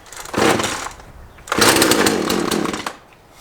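A chainsaw with a blue choke and red stop switch catches with a brief roaring burst, drops off for a moment, then fires again and runs loud for over a second before cutting out.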